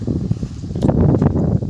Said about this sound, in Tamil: சொல்லப்போனால் பயங்கரமாக காற்றடிக்குது